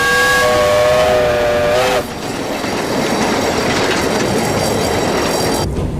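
French troop train of the British Expeditionary Force in the First World War, running loudly and steadily along the railway with continuous wheel rumble and rattle, a brief squeal or whistle-like tone at the start.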